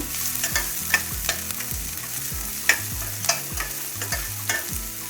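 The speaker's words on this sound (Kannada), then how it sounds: "1-2 ಉಳ್ಳಾಗಡ್ಡಿನ ಚೆಂದಾಗಿ ಕಟ್ ಮಾಡಿ ಇಟ್ಕೊಂಡಿದ್ದೆ ಅದನ್ನು ಹಾಕ್ತಾಯಿದ್ದೀನಿ. ಹಾಕ್ಬಿಟ್ಟು ಫ್ರೈ ಮಾಡ್ಕೋಬೇಕು." Chopped onion frying with cumin in a pan: a constant sizzle with repeated clattering strokes of a spoon stirring at a steady rhythm, close up and with no talking.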